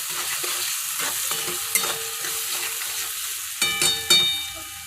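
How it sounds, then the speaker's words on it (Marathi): Spiced cabbage vegetable sautéing in oil with sabzi masala in a pan: a soft steady sizzle with stirring scrapes and a few sharp metallic clinks of the spoon near the end. "आता यात सब्जी मसाला टाकून घ्या आणि व्यवस्थित परतून घ्या"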